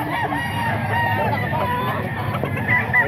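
Several chickens cluck and a rooster crows nearby at a poultry sale, fairly loud and busy, with no talking in between.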